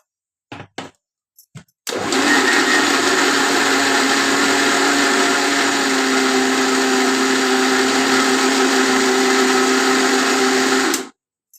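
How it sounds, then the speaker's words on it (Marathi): Bananas are blended in a kitchen mixer grinder, which runs loudly and steadily with a high whine for about nine seconds after a few short clicks and bursts, then stops abruptly. "मिक्सर मधून."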